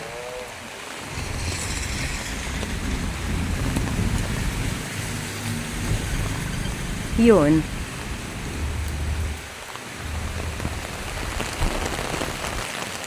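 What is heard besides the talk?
heavy rain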